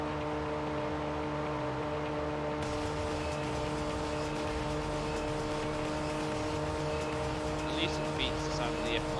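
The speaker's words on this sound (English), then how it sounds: "sound of the F1 car going on in the rear" A high-pitched F1 race car engine in Gran Turismo 3 drones continuously at a steady pitch, loud and constant, while people talk over it.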